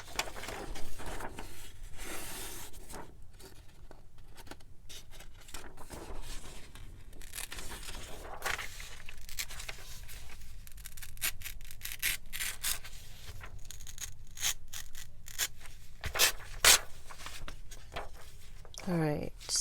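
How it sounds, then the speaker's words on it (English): Old paper being torn by hand along an inside edge, with scattered rustling and rough ripping bursts, some sharper near the end. "So let me just tear this"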